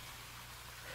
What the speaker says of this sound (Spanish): Despertar con el sonido de la lluvia.